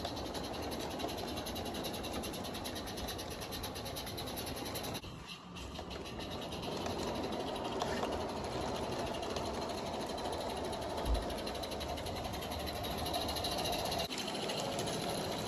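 A steam locomotive with slip eccentrics pulls a tourist train, producing a continuous loud rumble and rhythmic mechanical chuffing close by, with a brief dip midway before the steady drone resumes.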